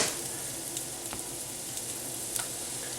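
Bell peppers cut into even pieces sizzle quietly in a hot pan, a soft steady frying hiss with a few faint clicks and stirring ticks and no voices.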